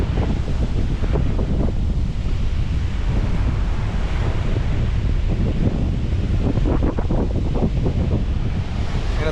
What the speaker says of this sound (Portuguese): Ainda tá batendo um pouco de vento.